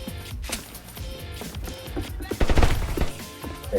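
A gun fires in Roblox Siege in quick bursts of sharp shots, one denser volley standing out midway, with game noise and a voice talking in the background.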